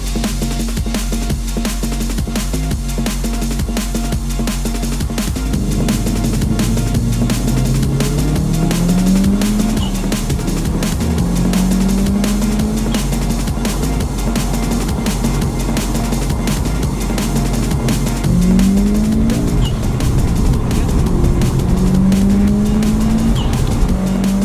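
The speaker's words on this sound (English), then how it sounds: "Now the anti-lag works too, gets half a bar of boost ready" A Subaru WRX/STI on launch control with anti-lag: a loud car engine held near at high revs, with repeated rising engine sweeps and pops and some tire squeal, and no talk.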